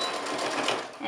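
Brief close burst of sewing machine stitching while back tacking a fabric mask strap, a continuous buzzing run with a voice talking over it.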